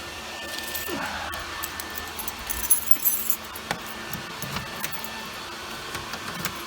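Keys dropped outdoors at a small single-story house build, giving a brief metallic jangle and a few light clinks against a background of steady outdoor noise, with no voices.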